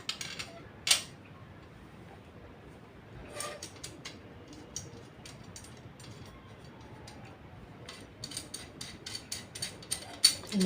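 Small clicks, creaks and ratcheting ticks from a screw being tightened and locked on an aari embroidery stand, scattered in short clusters, fairly close and quiet with no talk.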